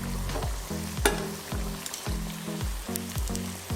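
Banana fritters frying in oil make a dense, close sizzle, broken by a repeating rhythmic scraping or clanking pattern and a few sharp clicks, with no one speaking.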